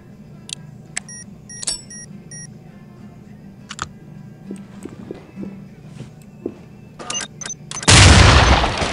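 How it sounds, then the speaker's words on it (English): A C2 breaching charge detonates at a door in the tactical shooter SWAT 4, a sudden loud broadband blast near the end following quieter footsteps, beeps and gear clatter. "Get the C2 to the door. Setting charge. Prepare for detonation."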